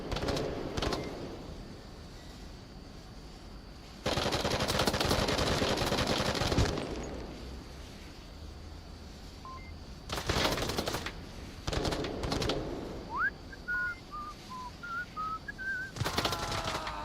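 Gunfire in the VR shooter Onward during a competitive match, with several bursts of rapid automatic shots at moderate distance, separated by quieter gaps that hold faint chirping ambient tones.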